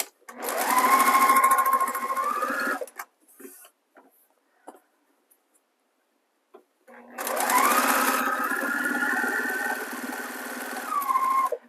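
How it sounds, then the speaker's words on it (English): A sewing machine chain-pieces quilt blocks in one continuous stitch, running in two sustained, close bursts separated by a quiet pause with small handling noises. "I am chain piecing, which means this is going to be one continuous stitch"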